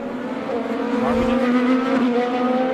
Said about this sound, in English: The Hitachi Chevrolet squeezes up the inside of the Meyer Shank Honda.